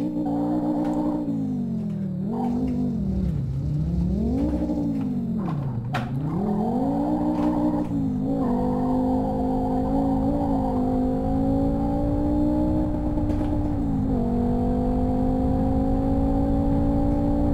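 Fiat Marea turbo 2.0 20V in Live for Speed, the engine droning loud and close with rising and falling revs, dipping and stumbling at moments before settling into a steady hum.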